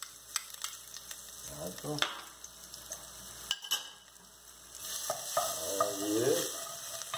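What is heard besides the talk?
garlic frying in a pan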